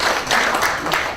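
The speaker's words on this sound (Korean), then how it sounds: "다시 한 번 더 유창욱 캐리토닉 대표님께 박수 좀 부탁드리겠습니다." Audience applause at a neighbourhood public forum on vacant houses in Jeonpo-dong, honouring a company representative: a steady, dense wash of clapping filling the whole moment, fairly close and even, with no voices over it.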